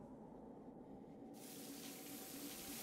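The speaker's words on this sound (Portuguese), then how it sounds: "Tromba mangueira, uma tromba especializada em espirrar água a longas distâncias." Water spraying from a hose trunk in the video game The Eternal Cylinder, a steady hissing rush that brightens and grows louder partway through, continuous and alone.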